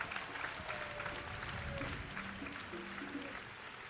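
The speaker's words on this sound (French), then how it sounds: "Let us clap for Jesus." Congregation at a church revival service clapping together, a dense, steady wash of applause filling the room, with faint voices and a sustained tone underneath.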